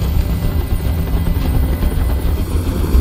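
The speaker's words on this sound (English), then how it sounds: "I can't stand that noise anymore. Tell that helicopter to get out of here." Helicopter rotor noise in the video game Detroit: Become Human, a loud, steady low thumping drone that holds without a break, with no voices over it.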